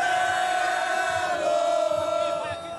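Botafogo supporters in a football stadium during a semifinal against Salgueiro chant and cheer in a loud, sustained mass of voices that carries across the whole stretch, some pitched voices standing out over the roar.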